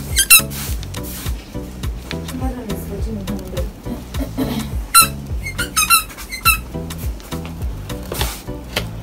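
A small squeaky puppy toy squeezed repeatedly, giving short sharp squeaks in quick irregular bursts while people talk nearby.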